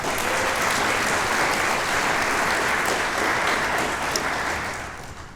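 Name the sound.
audience applause for the commissioner staff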